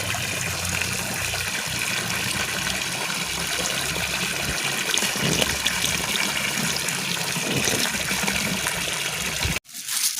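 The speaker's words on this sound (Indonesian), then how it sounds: "Dimasukin batang pohon pisangnya, direndam dulu ya sekitar 15 menit lah teman-teman." Banana tree stems dropped into water to soak, a loud continuous wash of running, splashing water filling the scene close up, cutting off abruptly near the end.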